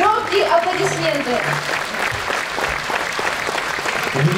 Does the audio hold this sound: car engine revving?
no